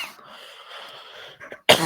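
A single sharp, close cough bursts out at the end, preceded by a soft, breathy, wheeze-like exhale.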